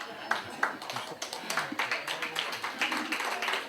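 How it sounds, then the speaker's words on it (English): A banquet audience at a county medical society's Founders Day applauds with a dense, steady patter of hand claps that carries on for several seconds. "you're clapping for Art and Tony, aren't you?"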